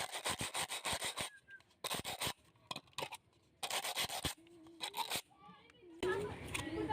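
A cut piece of plastic bottle is rubbed smooth in quick bursts of close, dry scratchy friction separated by short pauses, with a voice briefly heard near the end.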